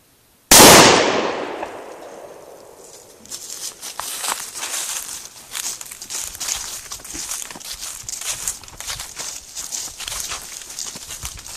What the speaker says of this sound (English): we're going to do our second 410 shotgun round